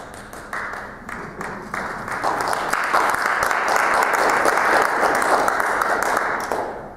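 A lecture audience claps during a talk on Islam and the legacy of Martin Luther King Jr. Applause starts with scattered claps, swells into a full, loud ovation that holds, then begins to taper at the end.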